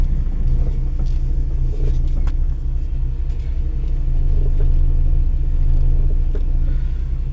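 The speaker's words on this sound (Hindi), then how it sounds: "जब स्टीयरिंग को लेफ्ट राइट टर्न कर रहे हैं उस टाइम पे आवाज़ आ रही है।" A car's interior fills with a steady low rumble and faint creaks and knocks as the steering is turned left and right, a continuous close drone with no talking.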